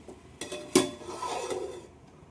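A metal lid set onto a cooking pan on a home stove gives a clear clank with a brief rattle and scrape, then settles into quiet.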